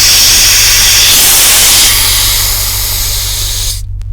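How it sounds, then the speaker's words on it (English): An air compressor running off a 2000 watt inverter, with loud pressurised air hissing out steadily for several seconds before cutting off abruptly, a low electrical hum underneath. "We got air coming out."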